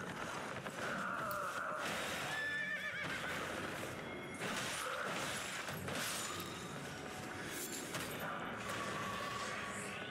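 Loud horse whinnies and neighs ring out repeatedly in an Elden Ring battle, mixed with hoof clatter and clashing game action, dense and continuous over ten seconds.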